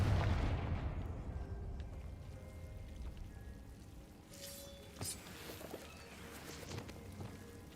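In Hogwarts Legacy, a Confringo blasting curse goes off with a heavy booming explosion at the start that rumbles and fades, followed by scattered smaller crackles and impacts at moderate volume.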